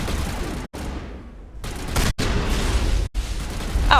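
Shotgun fire from a squad combat firefight in the Mass Effect video game: loud, dense bursts of gunfire and impacts continuing throughout with brief gaps, no speech over it.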